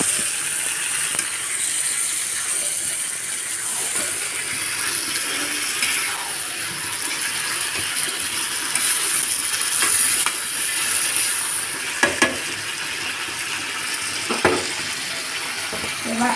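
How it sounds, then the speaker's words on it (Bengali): Chicken gizzards and liver frying with mung dal in a pan while being stirred, a steady sizzle with bright hissing over scraping spoon strokes and a few sharper clatters, close and continuous. "মুগ ডাল দিয়ে আবার এভাবে নেড়ে চেড়ে দিচ্ছি।"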